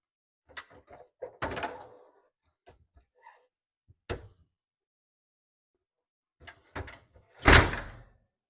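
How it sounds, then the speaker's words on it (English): Clunks and a sliding scrape as a door is pulled off a NEFF hide-and-slide oven, several brief knocks scattered over the span, then one louder sliding rasp near the end, close by, with no talk. "so that's the oven doors off"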